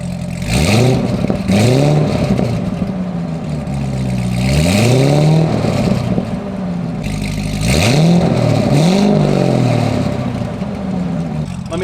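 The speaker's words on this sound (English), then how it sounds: "I'll give it just like a baby rev" A Corvette ZR1 with its exhaust valves open, revved in short bursts: a few sharp, loud blips with rising and falling pitch over a steady rumbling idle, close by.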